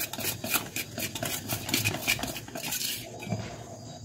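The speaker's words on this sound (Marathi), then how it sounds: "मीठ आपण पिठात मिक्स करून घेऊ" A spoon stirs salt into gram flour batter for onion-potato bhaji in a metal bowl, making quick, close, repeated scraping clinks against the metal in a busy, steady rhythm with no talking.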